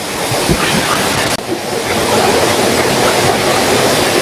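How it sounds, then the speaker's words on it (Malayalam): Meenmutty waterfall rushes after rain, a loud, dense, continuous roar of falling water with some wind buffeting, no speech heard. "എല്ലാവർക്കും ബ്യൂട്ടിഫുൾ ആയിട്ടുള്ള വാട്ടർഫാൾസ്."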